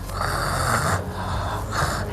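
A person imitates a snoring-like noise, giving three long, rough, rasping breaths in a steady rhythm, loud and close, with no other talking.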